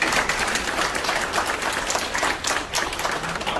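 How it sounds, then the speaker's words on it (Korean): Dense, steady applause fills the room from a gathered audience at a memorial ceremony for President Park Chung-hee held in Tokyo, continuous and fairly loud throughout. "이어서 박수 한번 칠까요?"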